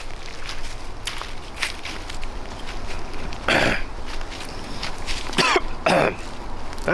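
Man coughing nearby, three harsh separate coughs with throat clearing, set against faint rustling and shuffling footsteps.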